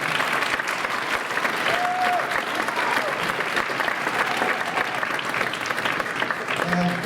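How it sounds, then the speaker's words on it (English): Crowd clapping at a school winter band concert, thick continuous applause close and loud from start to end, with scattered voices and a brief whistle-like tone over it. "We'll get another round of applause for them."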